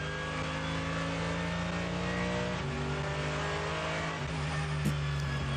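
A race car runs in qualifying at the Nürburgring 24 Hours, its engine droning steadily before brief dips and short throttle blips near the end.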